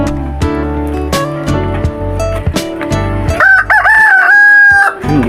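Pet chickens and a rooster kept for breeding call out loudly and close, a run of clucks and cackling followed by a drawn-out crow near the end, with heavy low rumble underneath.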